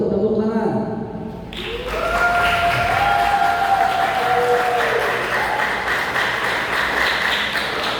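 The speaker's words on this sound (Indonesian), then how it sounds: "Tepuk tangan untuk semua para kandidat" Audience at a student election for head of an Islamic boarding school breaks into steady applause with some cheering, loud and sustained after a brief lull, with a tonal chime-like sound layered in and faint voices underneath.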